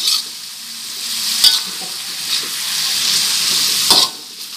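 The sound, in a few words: frying vegetables in a wok for fried rice vermicelli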